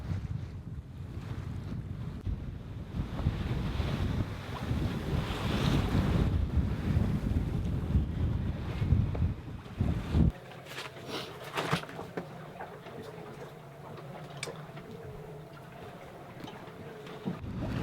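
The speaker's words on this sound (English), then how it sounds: "So we are sailing away on our way to the La Paz area." A sailing vessel making a slow upwind passage toward La Paz in light wind, waves sloshing against the hull amid wind noise on the microphone, loudest early and then easing to quieter lapping water with occasional knocks.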